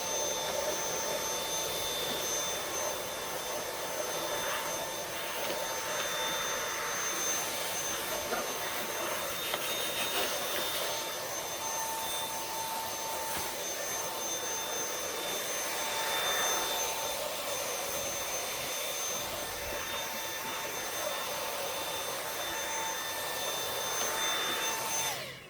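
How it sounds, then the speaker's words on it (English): A second vacuum cleaner runs continuously to clean the inner bag of a Bissell/Singer 3510 upright, with a steady high whine and airy rush held at an even level throughout. "the easiest way that I do it is just grab another vacuum."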